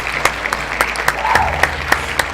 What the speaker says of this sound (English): Everybody clap that